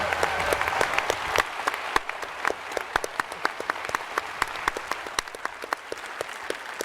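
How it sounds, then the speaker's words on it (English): An audience at a PAX East game panel for Mass Effect Andromeda applauds a presenter, a sustained round of many hands clapping with sharp individual claps standing out, steady for several seconds. "So everyone give Ian a round of applause."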